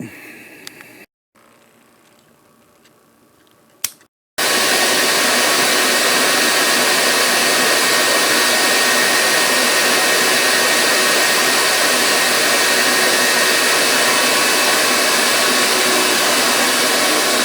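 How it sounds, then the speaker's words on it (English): Brief clicks and rustles give way to a loud, steady motor whoosh of a vacuum cleaner running continuously up close in a woodworking shop. "the vacuum's going already"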